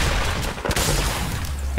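Sniper gunfire in an online shooter video game, a dense crackle of distant shots with a sharper report in the middle, over constant game ambience and no speech.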